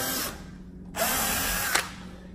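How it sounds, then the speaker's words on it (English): An electric drill drilling a cabinet door for a knob hole whirs in two short bursts, near and loud, separated by a brief pause. "You're gonna line your bit up directly in the center, and you will just drill it without the jig"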